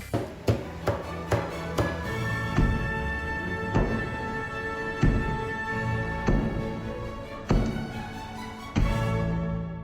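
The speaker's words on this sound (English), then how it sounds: "That sound of rib tips being cut up." A cleaver chops pork rib tips on a board again and again in an uneven, drum-like rhythm, loud and close, over a busy ringing background at a Chicago barbecue restaurant.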